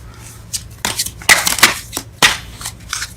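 Tarot cards are shuffled and riffled in several quick, crisp bursts with short pauses between them, close up and fairly loud.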